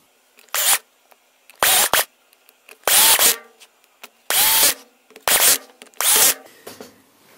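A power drill drives screws into a prototype holder in seven short whirring bursts, each rising in pitch as the screw seats, separated by brief quiet pauses, close and loud.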